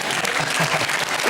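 Studio audience at a British comedy panel show breaks into sustained, dense applause, a steady wash of clapping filling the short moment without pause.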